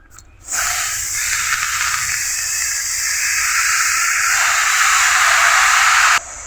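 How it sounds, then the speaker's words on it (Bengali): Water spinach dropped into a hot wok for a Bengali kolmi shak fry, a sudden loud hiss that holds as a steady, close sizzle for several seconds, then cuts off. "কড়াইয়ের মধ্যে কলমি শাকগুলো দেওয়া হলো"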